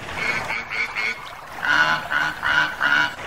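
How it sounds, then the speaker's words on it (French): Duck quacking on a farm, a run of repeated nasal quacks in two bursts, fairly close and clear, with no talking. "Bonjour, je suis le canard."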